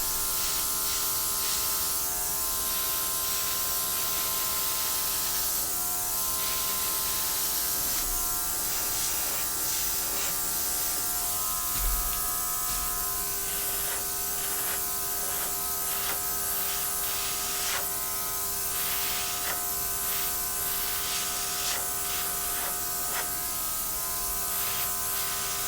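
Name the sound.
air blower blowing paint across canvas, Dutch pour painting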